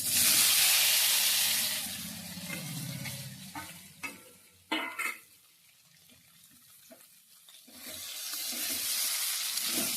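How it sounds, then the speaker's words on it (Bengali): Hot oil sizzles loudly as paneer fries, fading briefly while a utensil clinks and scrapes against a pan, then the sizzling swells again. "পনিরগুলো আমি হালকা করে ভেজে নিচ্ছি"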